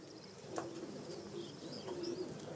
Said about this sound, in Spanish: Son tórtolas.